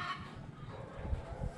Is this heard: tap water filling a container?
no